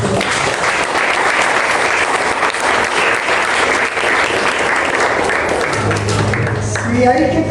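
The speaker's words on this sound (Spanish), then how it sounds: "Dale un aplauso." Loud, dense applause from a church congregation fills the space steadily, with a voice and a sustained musical tone emerging near the end.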